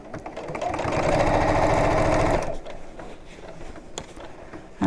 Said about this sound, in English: And just sew all the way around.